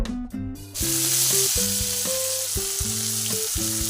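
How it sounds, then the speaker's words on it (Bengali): Cauliflower frying in a pan gives a steady, close hiss that runs throughout, with a busier stretch of crackle at the start and a faint tonal hum underneath. "এখানে আমি ফুলকপি ফ্রাই করছি"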